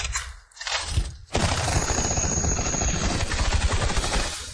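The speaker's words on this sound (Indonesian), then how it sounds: "Satu tangan satu gatling. Cakupan tembakan artileri." A gatling gun and artillery open fire together, bursting in suddenly after a brief lull as a loud, dense, continuous roar of rapid shots and blasts that holds steady to the end.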